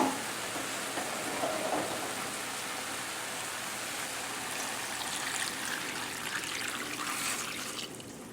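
Hot fish stock poured from a pot on the back burner into a pot of potatoes for a potato and fish stew, a steady close liquid stream and trickle running without a break for several seconds.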